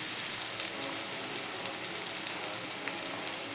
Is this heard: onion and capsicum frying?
yes